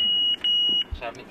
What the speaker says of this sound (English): It sends a warning beep when the car swerves out of its lane